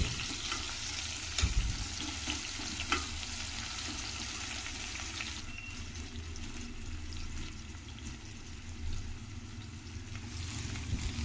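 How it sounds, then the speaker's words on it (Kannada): Onions frying in oil, a continuous soft sizzle and hiss at low level with occasional faint stirring clinks, close but quiet. "ಈರುಳ್ಳಿನ ಚೆನ್ನಾಗಿ ಫ್ರೈ ಮಾಡ್ಕೋಬೇಕಾಗತ್ತೆ ಎಣ್ಣೆಯಲ್ಲಿ."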